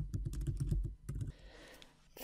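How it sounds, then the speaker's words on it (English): Close, quick bursts of computer keyboard typing during the first second and a bit, then a short pause before a few more keystrokes, with no talking. "just click here on the white space and simply start typing."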